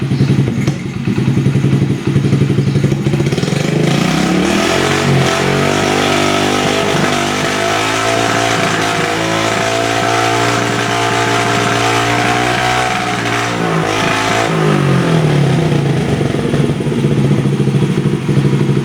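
A 1994 Honda Z50R mini bike engine runs close and loud, with a steady idle, then a smooth rise and fall of revs in the middle before it settles back to a rattly idle.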